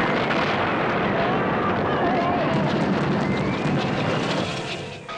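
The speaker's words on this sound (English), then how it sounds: "what an explosion! What alarm!" Cartoon explosion in an animated Max and Moritz story, a loud, dense rumbling roar that sustains for several seconds before fading at the end.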